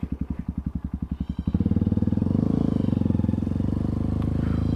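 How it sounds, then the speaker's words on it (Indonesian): A 2021 Honda CRF trail motorcycle engine, up close and loud: a steady thumping idle pulse, then a rev that climbs into a dense, sustained roar, with no voices. "Nih kita cek sound dulu, gembar-gembar sedikit."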